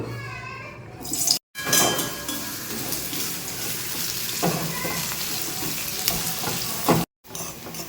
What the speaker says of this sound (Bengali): এবার পেঁয়াজটা দিয়ে দেবো।